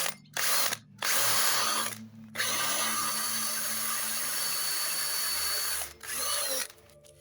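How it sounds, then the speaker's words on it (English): A power drill bores into a wooden plank, its loud, close whine running in long bursts that are broken by short pauses, and a lower grinding tone comes in as the bit works through the wood. "Put the drill."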